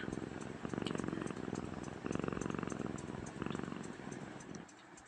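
A cat purrs steadily up close, a soft rhythmic rumbling in repeated breathing cycles that pauses briefly between breaths and fades at the end.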